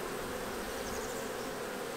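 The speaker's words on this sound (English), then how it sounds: "I'm just going to shake these bees out right here" Honey bees from a colony with a heavy mite load buzz in a steady, dense drone as they are shaken off a sugar-syrup frame during a hive inspection, with the sound continuous and close throughout.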